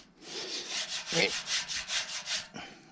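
Surface rust being wiped off a metal frame: about ten rhythmic back-and-forth rubbing strokes, close and moderately loud, ending in a brief knock.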